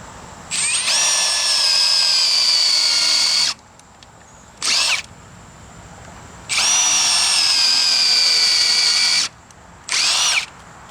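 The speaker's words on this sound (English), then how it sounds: "right now we're going to continue on with drilling" A drill driver spins up in several long bursts and two short pulses while driving screws into deck boards, loud and close, with quiet pauses between runs.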